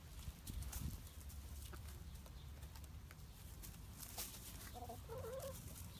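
Hens clucking in short bursts, a few rapid clucks near the end, over steady outdoor background noise.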